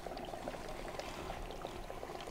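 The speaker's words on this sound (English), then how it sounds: "here we're gonna pour it directly onto the dry ice itself" Liquid poured straight onto dry ice, a steady close fizzing and bubbling wash that holds at an even level throughout with no talk.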